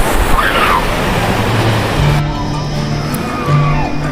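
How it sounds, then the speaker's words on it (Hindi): Strong waves churning on the water of a dam reservoir at Satpakhar Dam near Raipur, Chhattisgarh, a steady loud wash of surf-like noise, with someone talking over it. "देख सकते हैं कितना तेज लहर उठ रहा है यहाँ पर"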